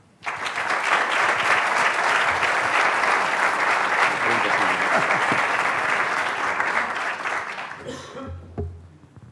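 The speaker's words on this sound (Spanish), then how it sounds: "Pido, por favor, un fuerte aplauso por don Alfonso Cuervo Arango y de Cachavera" An audience at an anniversary event gives a speaker a loud, sustained round of applause that begins abruptly, holds dense and even for several seconds, then fades into a few scattered claps and faint murmurs.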